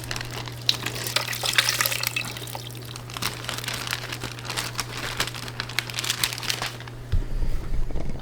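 Water splashes and pours as small aquarium fish are tipped into a net, close splashing and crinkling over a steady low hum, ending in a thicker rush of water.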